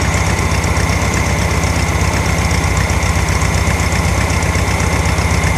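A 1964 VW Beetle with a 1600cc dual port engine idles steadily, a loud, even rhythmic chug with a fine knock running through it, close up and continuous with no voices.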